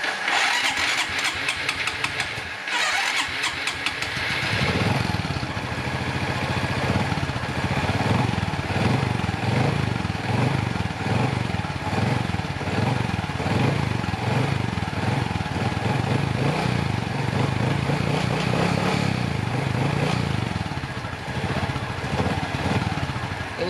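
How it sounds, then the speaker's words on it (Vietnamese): An old motorcycle engine cranks and catches, then runs steadily at a loud, close idle with a rough, pulsing beat, no talk over it. "Mình sẽ nổ máy thử cho anh em ha."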